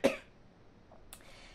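A single sharp cough right at the start, then quiet room tone with a faint click.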